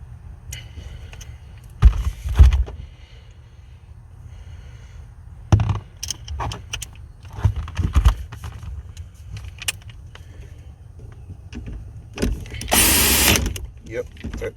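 Ratchet with a 13 mm socket working the battery nut on a BMW E90, close-up metallic clicks and clatter coming in short bursts, with some handling noise between them.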